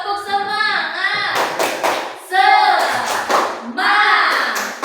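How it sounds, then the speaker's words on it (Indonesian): Schoolchildren in a classroom perform a rhythmic 'tepuk semangat' clapping chant, groups of claps and taps alternating with sung, chanted voices in a quick patterned rhythm. "Yuk, tepuk semangat."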